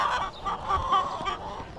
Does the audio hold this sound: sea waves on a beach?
no